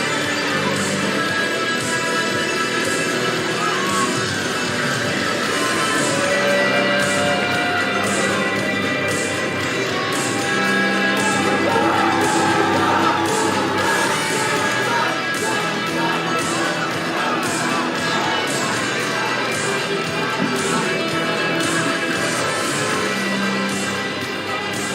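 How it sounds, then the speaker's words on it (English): Wrestling crowd at a Dungeon Wrestling tag team title match, a steady roaring din of cheering that holds loud throughout and swells slightly midway, with no pauses. "The crowd is electric."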